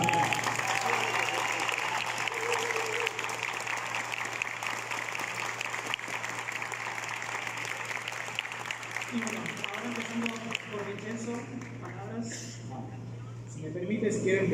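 At the official premiere of a biographical series about Pedro Infante, an audience applauds the cast. The clapping runs through most of the stretch at moderate level, with a voice starting to talk over it near the end.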